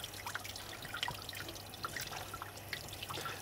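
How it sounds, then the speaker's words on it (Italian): Salt cod fillet rinsed under cold running water, a soft steady trickle with scattered drips and light splashes close by, fairly quiet and free of talk. "Gli dai una sciacquata in acqua fredda"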